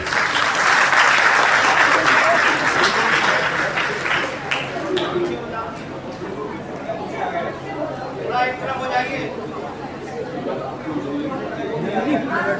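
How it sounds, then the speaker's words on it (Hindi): Hall audience at a Maa Baglamukhi yagya gives strong, sustained applause for the dais, dense clapping for several seconds that thins into scattered claps and murmuring voices. "व्यासपीठ के लिए जोरदार तालियां।"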